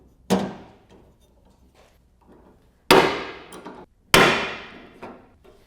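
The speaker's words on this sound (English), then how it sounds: "go ahead and put your next rivet in" Three sharp metallic impacts while a rivet goes in during a Motion Raceworks drag wing install on a first-gen square-body Chevy S10, each strike loud and close, spaced over several seconds with faint rattles between.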